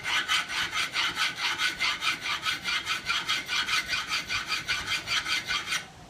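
A metal file rasps in steady back-and-forth strokes across a bushcraft knife blade, about fifteen even, loud, close strokes in a regular rhythm that stop abruptly near the end.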